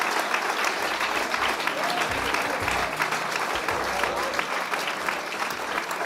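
Audience at a live soul concert at a country inn in Hull applauding, a dense, sustained wash of clapping from a crowd throughout, with low voices murmuring beneath it.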